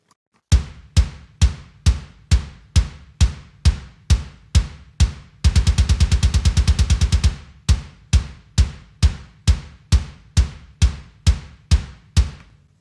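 A compressed metal kick drum plays solo, with tight, punchy, evenly spaced hits, broken midway by a fast burst of rapid double-kick strokes before the steady beat returns.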